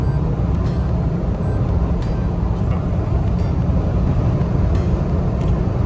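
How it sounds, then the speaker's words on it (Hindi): A 4000cc Toyota Revo Rocco SR5 pickup accelerates hard in power mode, its engine a loud, steady low drone with road and wind roar, heard from inside the cabin. "पावर मोड में आप देखें कि गाड़ी कैसे 120 पे जाती है।"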